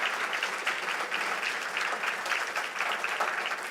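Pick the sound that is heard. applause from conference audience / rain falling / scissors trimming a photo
applause from conference audience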